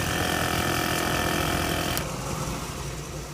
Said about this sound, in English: This unit here is a air compressor which you hook a hose up to